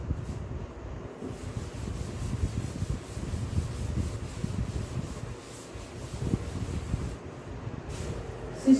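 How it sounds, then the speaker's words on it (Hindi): A board eraser rubs writing off a classroom board during a biology lecture, giving a steady, close scrubbing swish that runs almost unbroken for about eight seconds with small bursts of friction. "So we can rub this."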